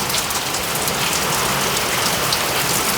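A heavy downpour falls on Chodedanapura village in Ranebennur taluk, Haveri district, a loud, even roar of rain drumming on surfaces that continues without a break and with no talking.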